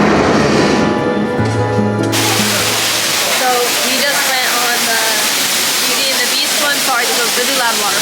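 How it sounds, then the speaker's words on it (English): A loud, steady rush of a waterfall at a Disney park in Japan fills the scene after a brief burst of other sounds, with people talking faintly underneath. "Really loud waterfall"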